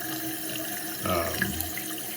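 Water runs steadily into a refilling toilet tank after repair work on its fill equipment, a continuous close hiss and gurgle with a brief surge partway through.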